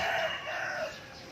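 Trained gamecock rooster crows once, a brief, clear cock-a-doodle-doo at moderate distance with a falling tail, heard alone without talk.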